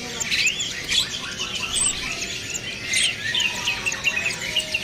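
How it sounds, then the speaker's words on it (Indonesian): Caged flowerpeckers (burung cabe-cabean) chirp at a bird market, many thin high tweets overlapping constantly amid a busy, noisy background with insect-like trills. "Ini burung cabe-cabean, stoknya ada banyak teman-teman nih."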